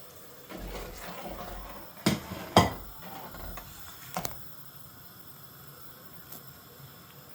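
Boiled chicken stock poured into a pot of simmering sauce in a home kitchen, heard as soft liquid pouring and sloshing with a few sharp clinks of a vessel against the pot rim.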